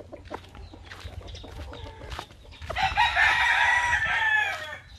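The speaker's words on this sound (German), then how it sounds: "Oh, die haben hier eine ganze Menge Hähne." Several roosters in a small Philippine village crow loudly and repeatedly, overlapping calls swelling in the second half, with clucking fowl and faint background noise earlier.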